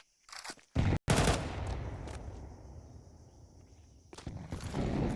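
Counter-Strike MP9 gunfire on the Ancient map during a professional match, with loud close bursts of rapid automatic fire, a short gap, a further burst, then quieter background game noise.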